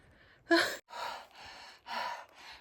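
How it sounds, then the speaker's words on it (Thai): A hiker pants heavily while climbing a mountain trail, with several loud, close, breathy gasps and exhales in an uneven rhythm and no speech. "เดินเขาหอบแฮกๆอู้ หอบแฮกๆ"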